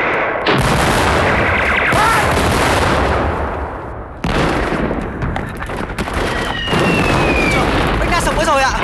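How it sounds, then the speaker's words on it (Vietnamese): Artillery fire in a Vietnamese war film about Dien Bien Phu, heavy booming blasts and crackling bursts in repeated loud waves, with a few whistling shells overhead and voices shouting amid the barrage. "Gọi cho pháo bắn cấp tốc."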